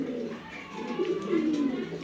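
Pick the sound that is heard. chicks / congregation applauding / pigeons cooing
pigeons cooing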